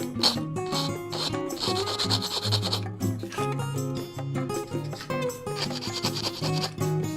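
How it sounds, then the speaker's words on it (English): Sharp nubs being scraped off plastic parts of a 1/144 HG Bandai MSM-07S Z'Gok Gundam model kit, heard as repeated close rasping strokes running throughout, with a tonal background hum underneath. "Very sharp nubs left behind, so they do make a lot of noise. You scrape them."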